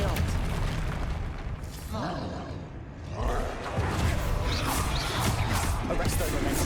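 Confringo, an explosive spell in the game Hogwarts Legacy, going off as a series of booming blasts and rumbling bursts, one after another amid combat noise, with a person talking over them.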